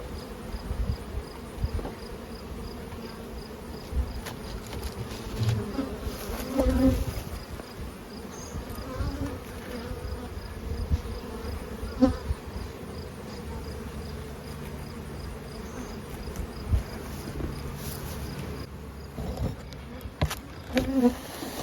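Honeybees hum steadily around a backyard beehive during a requeening job, a dense close drone with individual bees buzzing past now and then, and nobody talking.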